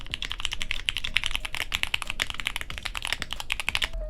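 Stock, unlubricated linear mechanical keyboard switches with polished stems are typed on in quick bursts of crisp, close clacks. The rhythm is steady and fast, and no voice is heard.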